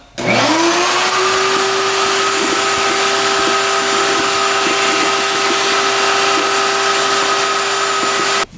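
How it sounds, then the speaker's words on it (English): A vacuum cleaner starts up with a rising whine and settles into a loud, steady roar while sucking a mouse nest out of a 1976 Honda Elsinore dirt bike, running close and uninterrupted to the end. "Alright, get the vacuum on."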